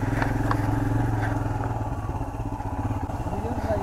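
Royal Enfield Himalayan motorcycle climbing in first gear with two riders aboard near Bijanbari, Darjeeling: a steady, loud low engine drone with rattly clatter throughout, close to the rider.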